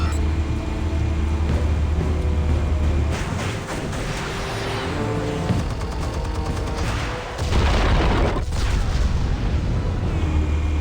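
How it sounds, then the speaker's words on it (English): Explosives detonating in Batman: The Telltale Series, a loud continuous barrage of booms and crackling blasts with rumbling low end, surging and dipping briefly before swelling again. "Explosives armed. Fire when ready."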